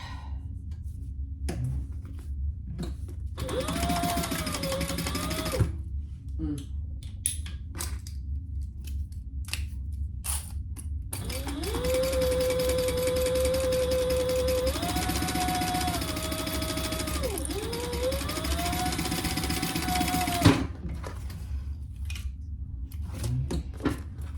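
Sewing machine stitching a seam on a crossbody bag, with bursts of motor whirring in short runs and one long steady run, stopping and starting between passes.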